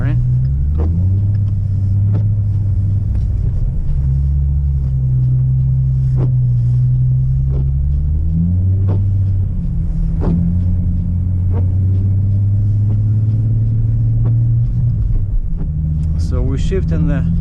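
A car drives on a snowy, partly plowed road, its engine rumbling loud and steady with gear changes that shift the pitch, while a person talks over it.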